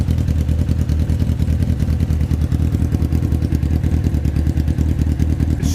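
A Honda Fireblade motorcycle engine just off choke runs at a steady, loud, close idle with a constant throbbing, clattering rumble and no change in pace.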